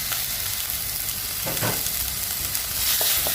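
Mackerel fish curry frying in a pan with ginger and tamarind, a steady close sizzle with a couple of brief stirring scrapes, no voices.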